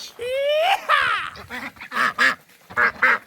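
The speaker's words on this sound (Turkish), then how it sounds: "Ördeklerin gagasına bak." Ducks at a village pond quack in a rapid series of loud, close calls, several short nasal bursts following one another with brief gaps.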